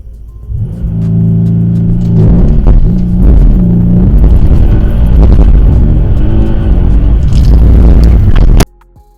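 Mercedes C63S AMG launching hard and crashing into a tree: a loud, close engine roar with revving surges and scraping rumble throughout, ending abruptly in a sudden cutoff near the end, no voices.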